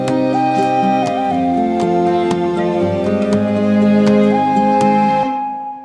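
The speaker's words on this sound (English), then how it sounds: "So those are the strings in the beginning, and that sounds like this together." MIDI strings blended into a full song mix, sustained chords under sharp recurring percussive hits and a plucked upper line, loud and dense before cutting off abruptly near the end.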